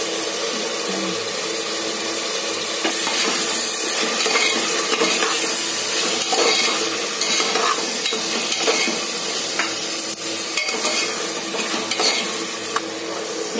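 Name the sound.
ginger-garlic paste and tomatoes frying in a pan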